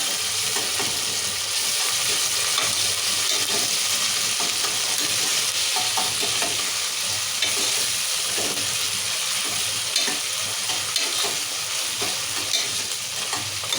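Ginger garlic paste frying in hot oil for a mutton curry, with a steady loud sizzle and spatter that runs without a break, and a spoon stirring and scraping the pan throughout. No one speaks.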